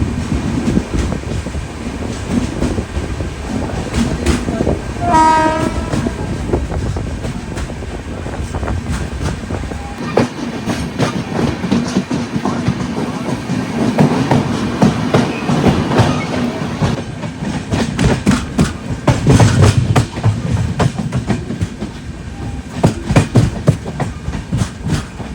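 The Kerala Sampark Kranti Express runs through a station loop on the Konkan Railway, its wheels clattering steadily over rail joints with a loud continuous roar and wind buffeting, heard from on board for a long stretch.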